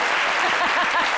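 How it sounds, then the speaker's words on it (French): A television studio audience claps, a dense burst of applause lasting about a second, loud and continuous. "Donc on va applaudir quand même."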